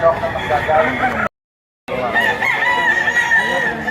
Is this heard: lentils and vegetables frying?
no